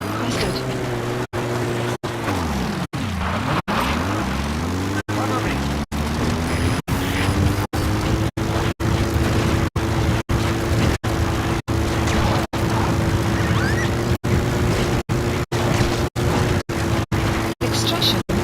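Support helicopter arriving in Metal Gear Solid V, a steady loud rotor and engine drone with low throbbing tones that dip and swell as it approaches, running continuously under intermittent voices.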